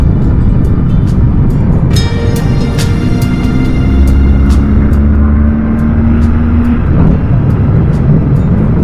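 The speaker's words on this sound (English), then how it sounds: "We'll try to do some accelerations in a few moments" A BMW R1200GS Adventure motorcycle with a 103 horsepower engine accelerates under heavy wind roar, its engine note rising steadily through the gear before dropping off with a shift, no talk.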